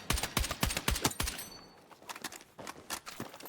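Carbine fire in the video game Battlefield 6: fast, loud bursts of rapid gunshots up close, a short pause, then another quicker volley of shots.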